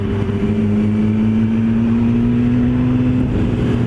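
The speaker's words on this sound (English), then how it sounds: "The old bike is sounding stunning, as you would well expect." An old motorbike engine drones steadily while being ridden through North Yorkshire, a constant loud hum with a slowly rising tone and rushing wind, with no voices over it.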